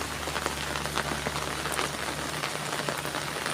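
Steady, heavy rain falls in a rural village, a dense continuous hiss of drops hitting surfaces that holds unbroken from start to finish with no voices.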